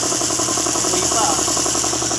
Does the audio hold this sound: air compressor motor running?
yes